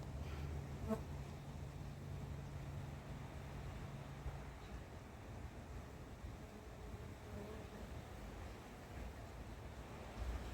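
A low, steady buzz of bees around a hive hums continuously, with soft wind noise and no voices throughout.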